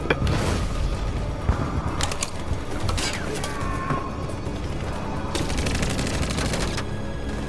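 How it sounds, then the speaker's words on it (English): Video-game gunfire lays down cover fire in sustained, dense volleys of shots. Mechanical clatter and sharp cracks stack up continuously across several seconds at a loud, even level. "Now give me cover fire."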